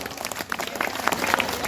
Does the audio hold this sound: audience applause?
yes